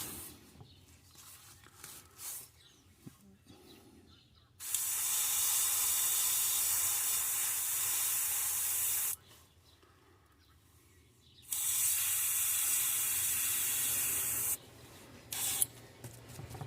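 Two long bursts of steady airbrush spray hiss while painting a koi pattern on a swimbait lure, each lasting several seconds, separated by quiet pauses with faint handling noises and short spurts near the end.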